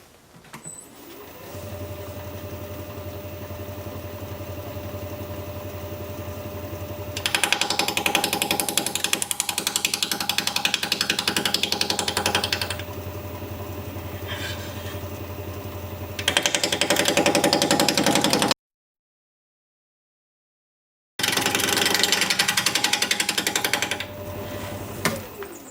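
A wood lathe spins a bowl blank at a little over 700 RPM while a 5/8 inch bowl gouge cuts it, giving a steady loud rough hum and rasp that swells louder in bursts, then briefly drops out before resuming.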